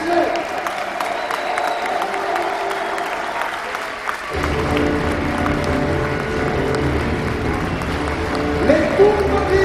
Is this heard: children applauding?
yes